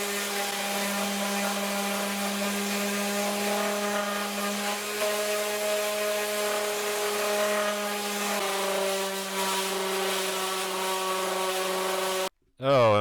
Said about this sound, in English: we're going to take the sander to it as we did earlier